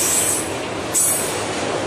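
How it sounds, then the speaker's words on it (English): A freight train rolls slowly out of a siding near Jenkinsburg, Georgia, with loud, close rumbling and a thin, high wheel squeal that fades and returns. "I'm out here watching the train by Bunch."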